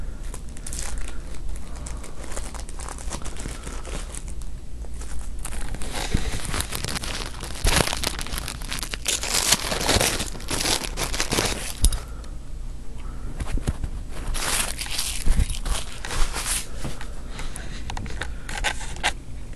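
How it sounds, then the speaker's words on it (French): A small chain is unwrapped from its packaging, with continuous crinkling and rustling of wrapping close by and sharper bursts of crackle, plus faint clinks, running on for about twenty seconds. "Maintenant je vais déballer la petite chaîne."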